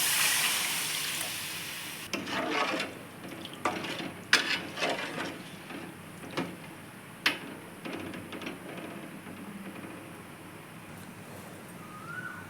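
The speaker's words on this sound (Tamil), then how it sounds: "வதக்க மசாலாவில் இந்த புளி தண்ணி எடுத்து ஊற்றலாம்" Tamarind water is poured into sautéed masala in a pan for Thanjavur-style fish curry: an initial rush of liquid hitting hot oil, then sizzling with intermittent stirring clinks and scrapes of a utensil, close and fairly loud.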